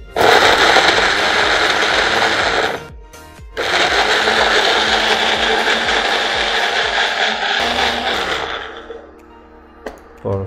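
Soaked red chillies are ground into a paste in an electric blender: a loud, steady whirring roar that stops briefly, starts again, then winds down near the end.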